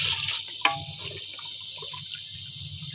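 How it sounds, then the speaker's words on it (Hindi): Water is poured into a pot of cooking red kidney beans (rajma), giving a brief splash followed by a soft, low liquid gurgle and bubbling under quiet kitchen background. "इसको हम ये पानी लगा रहे हैं"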